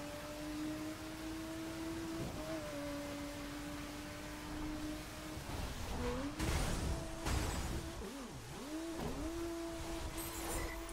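A car engine drones steadily through a racing run in The Crew, with pitch dips and rises as the driver shifts and brakes in rainy conditions, plus a burst of noisy impacts midway.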